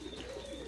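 Pigeons coo softly in a storm-damaged home loft, a steady low murmur of several birds close by with no talk over it.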